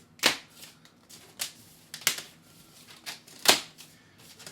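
A knife slices through the cardboard and plastic packaging of a Michell REVOLV turntable, giving several sharp, close cutting strokes at irregular intervals with soft rustling between them.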